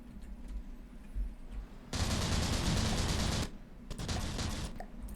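A massive 500mm gun fires in the naval combat game From the Depths, unloading nearly 550 rounds as a dense, roaring barrage. It rumbles continuously for over a second, pauses briefly, then bursts again, loud and alone.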